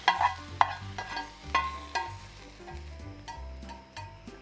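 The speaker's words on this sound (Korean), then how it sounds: "양파는 따로 밑간을 하지 않았기 때문에 소금을 소량 뿌려서 간을 하며 볶아주세요" Salted onions stir-fried in a pan for japchae, with a quiet sizzle beneath repeated spatula taps and scrapes, close and fairly faint, with a low hum throughout.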